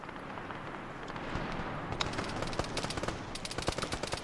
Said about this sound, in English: And now we're starting to hear gunshots everywhere.